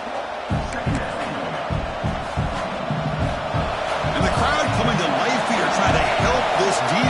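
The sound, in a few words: football stadium crowd coming to life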